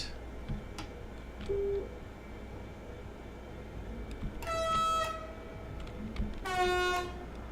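In the video game Train Sim World 4, an Azuma train on the East Coast Main Line: a low mechanical rumble with clicks and hisses, then two loud blasts of the horn, the second longer, over the running engine.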